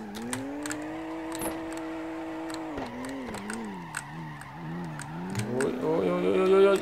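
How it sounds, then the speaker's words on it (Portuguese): A car drifts in CarX Drift, its engine droning and rising in pitch while the tires spin and skid hard in fourth gear, the whine climbing toward the end. "dá aquela engrenadona e começa a patinar com força já na quarta"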